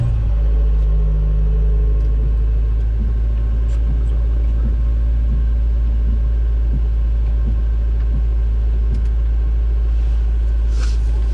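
Acura Integra GSR with a B18C1 engine driving, a steady low engine rumble and road drone from inside the car, with faint small knocks and clicks and no talk.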